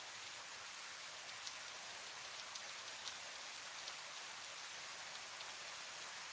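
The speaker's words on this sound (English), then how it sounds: "can you hear the rain?" Rain falls steadily outside, a soft, even hiss with occasional faint drip ticks, heard quietly and alone.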